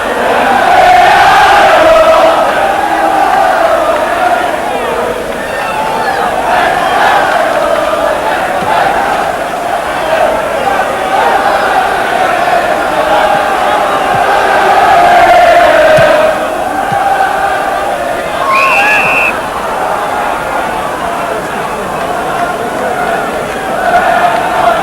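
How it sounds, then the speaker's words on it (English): A large football crowd roars continuously after Grimsby Town score against Millwall, a loud, dense wall of cheering and chanting with no let-up, heard from within a stadium. "And listen now to the crowd."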